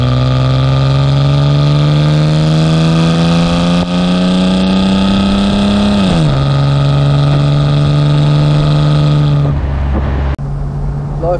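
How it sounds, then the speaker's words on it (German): A 1969 Mercedes 280 SL Pagode engine runs smoothly and loudly at close range, with its drone rising slightly before dropping back to a steady hum. "Läuft sehr schön die Maschine."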